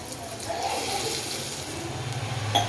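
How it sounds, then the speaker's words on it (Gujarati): About a glass of water is poured into cauliflower sabzi (traditional Gujarati flower shaak) cooking in a pan. The pour is a short, close gushing splash that swells and ends in a final slosh. "હવે આપણે એમાં 1 ગ્લાસ જેટલું પાણી એડ કરીશું"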